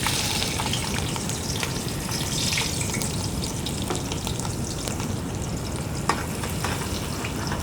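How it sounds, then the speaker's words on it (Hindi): Onions fry in hot oil in a pot for a Sindhi biryani, giving a steady, dense sizzle and crackle throughout with a few small pops, no voices. "इसमें हम प्याज को लाइट ब्राउन कर लेंगे।"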